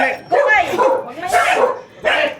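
A dog barks and yelps close by in a few short, agitated bursts, its pitch whining upward between barks.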